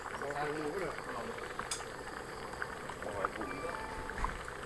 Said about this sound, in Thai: งานนี้น้ำเดือดแล้วนะครับปุดปุดแล้ว